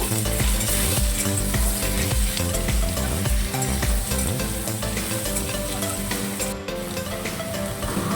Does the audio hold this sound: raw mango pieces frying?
yes